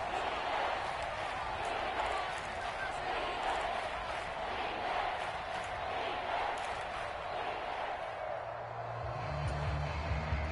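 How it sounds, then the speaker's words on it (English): A Seahawks stadium crowd in a PS4 football video game roars in a steady, distant swell, with a commentator's voice talking over it. "This red zone is where the Seahawk crowd really makes it tough for an offense to communicate."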